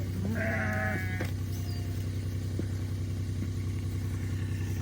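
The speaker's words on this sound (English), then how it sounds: "That's a bunch of sheep piled up in there." Sheep bleat in a farm paddock, with one clear nearby bleat at the start over a constant low engine-like drone and faint rustling.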